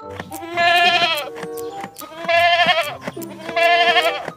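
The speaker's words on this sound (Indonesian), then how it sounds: "Wah, ternyata domba," Three loud sheep bleats come in quick succession, each a wavering, nasal cry heard up close with short pauses between them and no talking.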